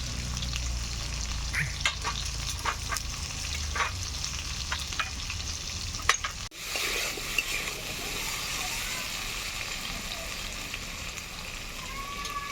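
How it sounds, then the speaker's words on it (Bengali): Potato fries in hot oil with a steady crackling sizzle, scattered sharp pops, and a brief dip in the sound midway before the frying resumes. "তেল গরম হয়েছে, আলুটাকে এবার ভেজে নেব।"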